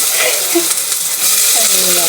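Onion and garlic frying in a hot pan for native chicken tinola, a steady loud sizzle with faint stirring scrapes and clinks throughout.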